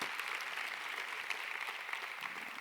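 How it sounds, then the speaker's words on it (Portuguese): A church congregation applauds during a sermon, a continuous, moderately quiet patter of many hands clapping, fairly even from start to finish. "Pode aplaudir porque é verdade."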